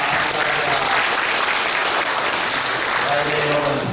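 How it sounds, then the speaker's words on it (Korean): A church congregation bursts into loud, dense applause at a New Year's Eve worship service, steady and sustained throughout with a faint voice underneath. "영광의 박수 올리겠습니다."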